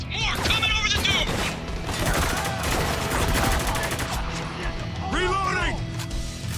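Sustained bursts of rapid gunfire and explosions fill a video game battle, loud and dense, with voices talking over the shooting throughout.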